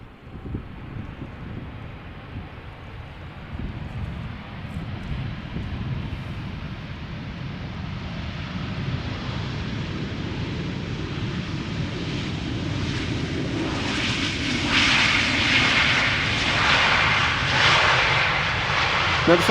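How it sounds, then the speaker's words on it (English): An SAS passenger jet arrives at Amsterdam Schiphol from Oslo, its engine roar rising from a distant rumble to a louder, nearer whine toward the end, with some wind noise. "This is SAS flight 821. Arriving from Oslo."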